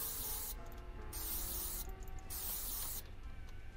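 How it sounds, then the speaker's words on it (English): Pepper spray hissing in the horror video game Granny, a loud continuous spray sound in repeated bursts of about a second each with brief gaps between them, heard alone with no talking. "Pepper spray."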